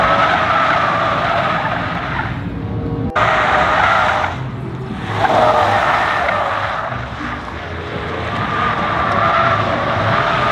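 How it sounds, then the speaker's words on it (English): A Tesla drifts at a car meet with loud, sustained tire squeal that rises and falls over about ten seconds, broken by a sharp thud and a brief lull before the screeching resumes. "How you gonna bring a Tesla to a car meet and try to swing it?"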